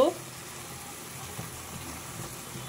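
Fish cooking in a pan with leafy greens added alongside: a soft, steady sizzle, close but quiet, with a brief clatter at the start.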